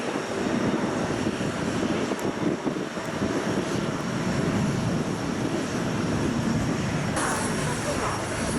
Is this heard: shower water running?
no